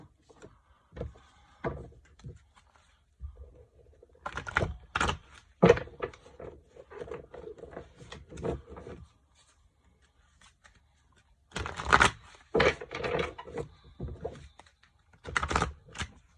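Chakra cards being shuffled and pulled, with clusters of close, crisp riffling and flicking in bursts separated by near-silent pauses, and no talking.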